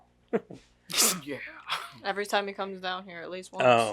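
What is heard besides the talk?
sneeze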